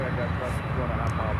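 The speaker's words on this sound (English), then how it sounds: "Next inbound is a classic Sky High Cargo Express 737-300 from Havana, Cuba" A Sky High Cargo Express Boeing 737-300 inbound from Havana, Cuba, at Miami: a steady, broad jet engine roar held at an even level throughout, with no voices over it.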